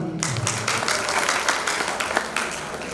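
Audience clapping at a Sheetla Mata jagran, a steady, dense burst of applause from a crowd throughout, moderately loud and continuous with no talk over it.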